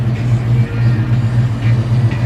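A 1968 Ford Mustang engine idling with a deep, steady low rumble, pulsing gently and sitting close and loud.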